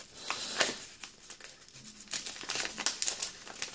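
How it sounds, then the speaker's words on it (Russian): A thin parcel from China being opened, with close crinkling and tearing of plastic packaging in irregular bursts, alone and without talk. "У меня накопилась небольшая кучка посылок из Китая. И мы сегодня их откроем."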